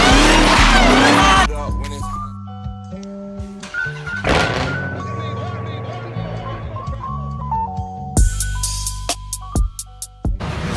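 A Dodge Hellcat Redeye spins its tires with loud, sustained squealing and engine roar, broken by a thunk and a pause before another burst, with voices and music alongside.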